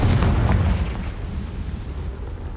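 A Confringo fire spell blasts in Hogwarts Legacy, a loud booming burst up front that rumbles and decays into a lingering low roar over about two seconds.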